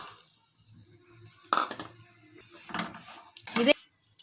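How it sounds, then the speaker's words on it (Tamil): A spoon scraping and clinking in a pan as vermicelli roasts in a little ghee, heard as a few sharp metallic stirring bursts with soft sizzling between them, close up and fairly quiet. "இது வந்து பாத்தீங்கன்னா வறுத்த சேமியா, அதனால 1 நிமிஷம் கிட்ட மட்டும் நம்ம வறுத்துக்கலாம்"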